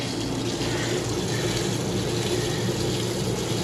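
Water runs steadily from a tap into the sink of a 2017 Forest River Forester 2251SLE Class C motorhome, a continuous broadband splash close by with no talking.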